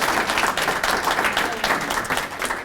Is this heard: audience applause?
yes